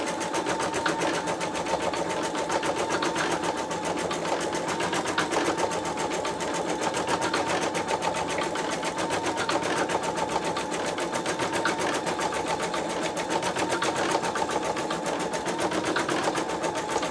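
An embroidery machine with a magnetic hoop stitches a simple 3,072-stitch design, a continuous rapid mechanical whirring and ticking that stays steady and close throughout, with no voices.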